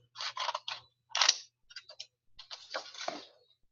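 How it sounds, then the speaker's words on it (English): Paper being cut quickly with scissors for a math foldable, a few rapid bursts of snipping and rustling up close, separated by short pauses, with no voices. "So I'm going to cut them real fast."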